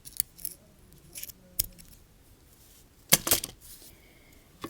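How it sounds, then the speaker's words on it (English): Small scissors snip thread on a beaded snowflake earring, a few faint crisp clicks early on, then a louder, closer run of two or three snips near the end, otherwise quiet. "now I'm going to go ahead and trim the thread"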